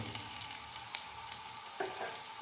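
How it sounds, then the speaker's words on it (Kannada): Green chilies and onion fry in a little oil in a pan, giving a steady close sizzle with light stirring scrapes and no voices. "ಹಾಕಿ ಫ್ರೈ ಮಾಡ್ಕೊಳ್ಳಿ. ಚೆನ್ನಾಗಿ ಫ್ರೈ ಆಗಬೇಕಿದು."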